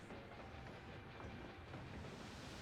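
Train rolling along in Final Fantasy XIV, a steady broadband rumble with a faint rail rhythm that holds evenly throughout, with no voices.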